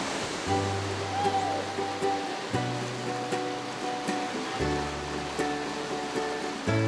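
Gunpowder River water pours steadily over its final drop to sea level into the tidal river, a broad continuous roar with faint tonal music underneath and no voices.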